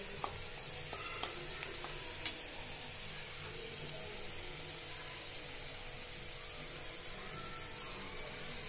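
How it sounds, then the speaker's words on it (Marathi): Chopped onion fries for misal in a hot pan, a steady close sizzle hissing throughout with a few light clicks of a stirring spoon. "इथे कांदा चांगला फ्राय होत आहे"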